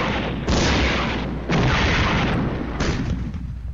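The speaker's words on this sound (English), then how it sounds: "Another 120mm barrage to waste." A 120mm artillery barrage lands in a tank war game, three heavy booming impacts spaced about a second apart, each a loud broadband blast with a rumbling tail that fades before the next strike.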